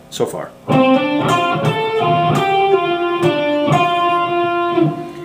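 An electric guitar plays a sustained, lightly overdriven lead phrase from a solo, notes ringing and bending into one another, loud and close with no voices.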